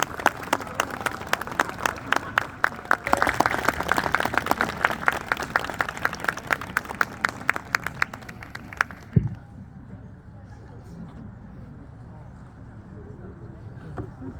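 Wedding guests clapping at an outdoor garden ceremony, dense rapid applause building and holding loud for about nine seconds, then stopping abruptly, leaving quiet ambience with a low murmur.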